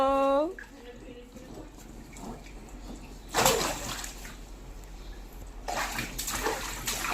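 Water splashes and sloshes as a child plays in a bath, in two louder bursts amid quieter dripping, with a brief sung or spoken voice at the very start.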